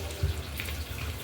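Tap water runs into a home sink while someone washes their face, a brief, steady, soft splashing rush with no clear speech.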